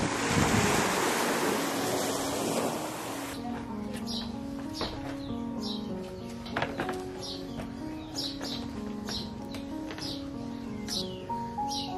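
High-tide ocean waves wash steadily on the beach at Nungwi, Zanzibar, a loud broadband surge with wind buffeting the microphone at first. Bird calls and a faint tonal hum sit underneath.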